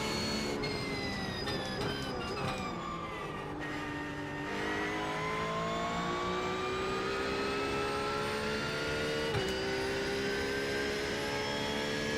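Engine of a Porsche 911 GT3 R race car lapping Bathurst in iRacing, a loud, steady howl heard from the cockpit that rises and falls through repeated gear changes, with no voices.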